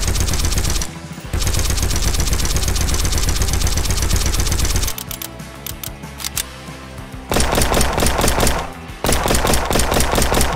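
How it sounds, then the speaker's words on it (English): Rapid, continuous automatic gunfire in a horror survival first-person shooter game, with projectile impacts and bullet shells ejecting. The fire is loud and sustained, with a couple of short pauses and a brief change in tone midway. "I worked on making a projectile base as well as adding hit particle effects and bullet shells to come out of the gun"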